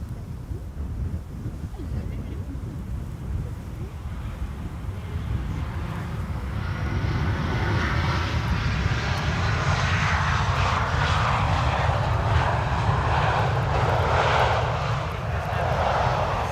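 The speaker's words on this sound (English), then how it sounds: "EasyJet flight 27888, arriving from Palma de Mallorca." An EasyJet airliner arrives at Amsterdam Schiphol Airport on a sunny, crosswindy day. A broad jet engine roar steadily grows louder and nearer, with wind buffeting the microphone throughout.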